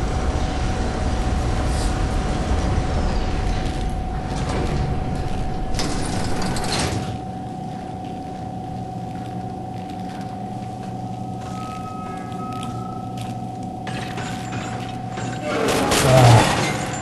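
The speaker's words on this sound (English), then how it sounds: "It's one of these kind of elevators." A mechanical elevator in the video game Cryostasis rumbles and clanks as it moves, with a steady low drone and a constant tonal hum, heavy jolts early on and a louder grinding surge near the end.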